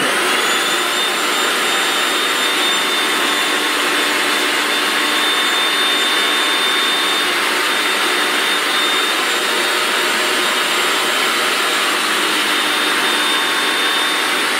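A food processor's citrus juicer attachment juices oranges, its motor giving off a steady, loud, continuous whirring hum for the whole stretch, with no voices.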